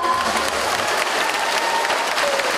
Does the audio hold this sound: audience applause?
yes